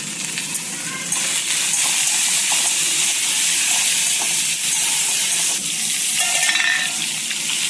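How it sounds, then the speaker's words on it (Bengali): Fish sizzles and spits in hot oil in a pan, a steady close hiss with crackling pops throughout, alone without talk. "এখানে মাছ ভাজাটা একটা হয়ে গেছে,"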